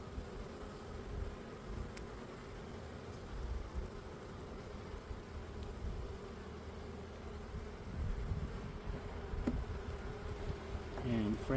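Honey bees buzz in a dense, steady drone throughout a mid-spring beehive inspection, loud and close, with a low rumbling hum under the swarm sound and a few brief clicks near the end.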